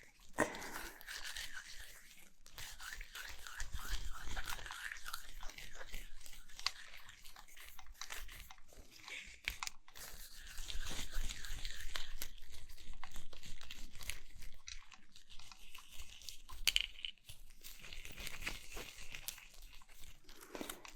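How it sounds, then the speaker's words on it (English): A crunchy object is squeezed and kneaded like dough close to the microphone, producing continuous crinkling, crackling and crunching textures that swell and fade without any speech. "just kind of crunching it, kneading it, kind of like some dough or Play-Doh"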